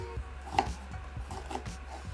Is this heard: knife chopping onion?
yes